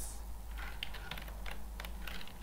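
Quiet, steady clicking of a computer keyboard as someone types C++ code, a run of light, irregular keystrokes close by with no talking.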